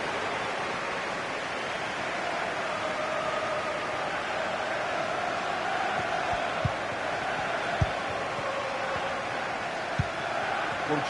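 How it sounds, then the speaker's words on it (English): Football stadium crowd roaring continuously as a broad, distant wash of cheering and noise, steady throughout with a few faint thumps, and a commentator voice faintly in the mix. "Well, just listen to this crowd."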